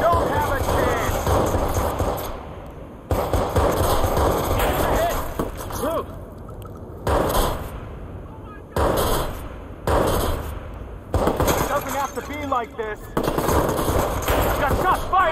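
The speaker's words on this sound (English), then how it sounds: "I got shots fired at my location." Game gunfire from Watch Dogs rattles in repeated rapid bursts separated by brief pauses, loud and close, with voices talking between and over the shots.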